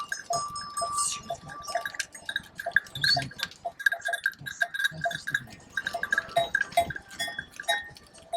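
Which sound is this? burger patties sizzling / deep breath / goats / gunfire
goats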